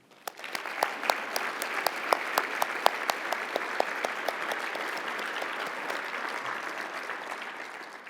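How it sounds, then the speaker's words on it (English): Applause for contestants at an analytics conference gala: scattered sharp claps swell quickly into steady, continuous clapping from a large audience, then ease off slightly toward the end. "Please join me with a warm round of applause for all of today's contestants"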